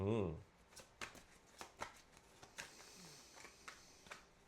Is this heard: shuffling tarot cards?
yes